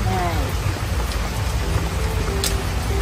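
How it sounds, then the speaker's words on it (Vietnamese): Heavy rain pours down during a rainy-day cooking session in the Vietnamese countryside, a dense, loud, steady hiss that continues throughout, with faint tonal sounds above it. "Cái này mưa quá"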